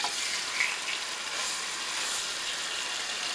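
Pork chops in a pan with melted butter give off a steady, bright sizzle and hiss at close range, constant and unbroken with no talking.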